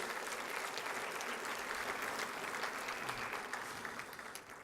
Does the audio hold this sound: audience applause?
yes